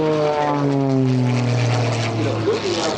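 A propeller-driven aerobatic airplane flies at an air show, its engine drone loud and near with a falling pitch as it passes, while a voice talks over it.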